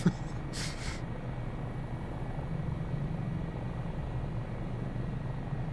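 A Dauphin helicopter in Microsoft Flight Simulator 2024 produces a steady, fairly quiet low rotor and engine drone that continues unbroken throughout, with a brief airy hiss just after the start.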